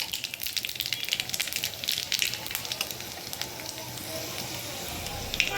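Panch phoron spices frying in hot oil in a kadai, with dried chillies and bay leaves, make a steady, close crackling sizzle with dense, bright popping throughout.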